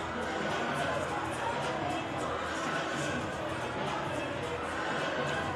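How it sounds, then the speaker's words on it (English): Lively crowd noise fills a high school gym during a girls varsity basketball game between Pittsford-Mendon and Penfield, a steady loud wash of chatter and cheering that never lets up. "a great crowd, a great lively crowd"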